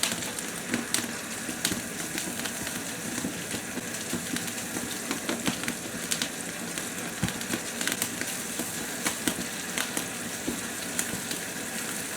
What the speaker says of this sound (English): Water's nearly boiling.